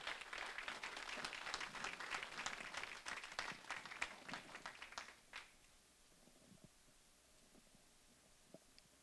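Audience applause at a lakeside community group's annual meeting, a fairly faint burst of clapping from a seated crowd that runs about five seconds and then stops abruptly, leaving a quiet room with a few scattered sounds.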